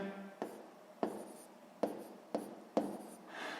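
A pen writes out a maths sum on paper in five short scratchy strokes, each starting with a tap and trailing off, close and quiet with no voices.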